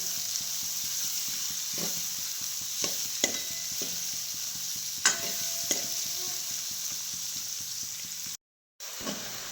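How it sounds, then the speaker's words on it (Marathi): Onion browns in a pan, likely over a wood-fired hearth, with a steady, even sizzle. Occasional spoon scrapes punctuate it before a brief cut to silence near the end. "कांदा चांगला लाल भाजून घ्यायचा आहे"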